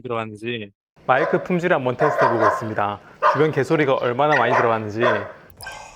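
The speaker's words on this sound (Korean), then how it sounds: "뒤에서 개가 신나게 짖어대고 있는 이런 상황인데" A dog barks a few quick times near the start, then a person talks steadily over the barking.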